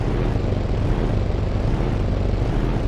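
A modded Toyota Supra engine idling in Gran Turismo on PlayStation, heard as a loud, steady, buzzing drone that runs evenly throughout without a break.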